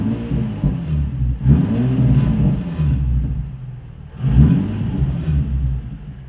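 A car fitted with a Flashark Racing Y-pipe exhaust gives two throaty revs that burble and fade, rising and settling close by between quieter stretches of low idle.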